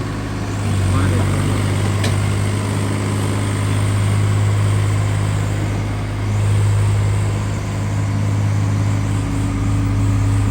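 A Swraj 855 tractor engine runs close and loud with a steady low diesel drone and a faint swell midway, while someone talks over it.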